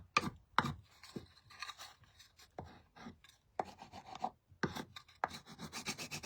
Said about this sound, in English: I'm just applying some wax here on our surface just so we can get this chippy look.